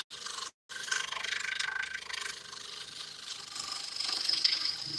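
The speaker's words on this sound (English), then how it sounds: "I'm just kind of straightening the outside with my larger skew" A large skew chisel cuts a spinning wood workpiece on a lathe, giving a steady close scraping hiss with a brief gap near the start.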